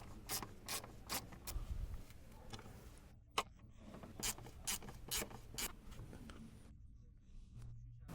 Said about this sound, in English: Use a 10mm socket with extension to remove the last 2 screws.